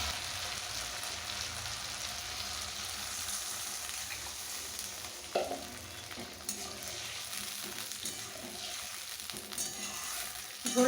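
Water poured onto fried mustard and poppy-seed masala in a pan for a pabda fish curry gives a steady, broad sizzling hiss that lasts throughout, with a few faint clinks and no voices.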